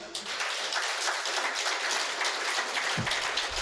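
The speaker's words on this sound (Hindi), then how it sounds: "ताली बजा सकते, छुट्टी है, जोर से बजाओ।" An audience at a Hindi spiritual discourse breaks into sustained clapping, a dense and even patter that stays at a fairly constant level throughout, with a brief low voice near the end.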